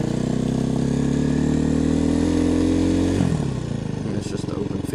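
A motorcycle riding in an open field, its engine droning loud and close at a steady pitch before the revs drop and the note grows rougher near the end.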